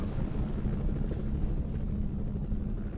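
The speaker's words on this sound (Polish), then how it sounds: "Jakiś helikopter nas strzelał." A helicopter in the video game FEAR 2 fires on the player, heard as a steady low, dense rotor rumble that fills the whole stretch without a break, with no talking over it.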